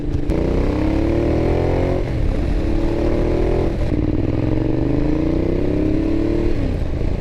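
A 2012 Ducati Diavel accelerates hard with a loud, close engine roar that climbs in pitch through the gears, dips briefly at each shift, and keeps pulling, all over steady road and wind rumble with no talking.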